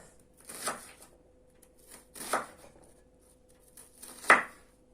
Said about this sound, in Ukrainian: Я начистила цибулі. Зараз поріжу швидко і пожарю.